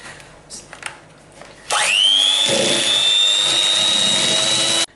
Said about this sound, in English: we're going to whisk these together until they become light and creamy coloured